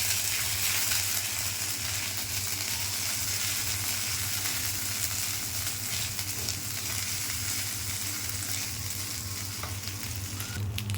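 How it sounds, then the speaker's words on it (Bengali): Steady sizzling and crackling of coconut frying in hot oil, continuous and close throughout with no talking. "আর নারকেলটা একটু তেলে ভেজে নিতে হবে।"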